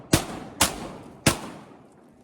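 Three sharp shotgun blasts are fired while duck hunting in winter after a Louisiana blizzard. The shots are spaced unevenly about half a second apart, each a loud crack with a short booming tail, and no voices are heard.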